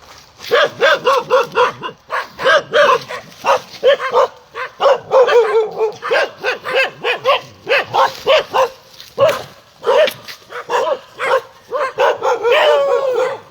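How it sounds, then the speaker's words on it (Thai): Dog barking repeatedly at a Thai temple gathering, a rapid series of close, loud barks and yips in bursts throughout, with occasional whimpering tones. "หมามารบกวน"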